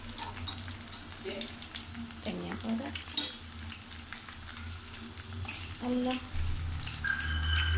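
Food frying in a pan as turmeric is added gives a steady sizzle, with stirring and clinking from utensils and light water-like hiss throughout, close and moderately loud.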